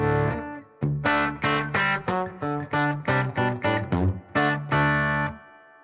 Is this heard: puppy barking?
no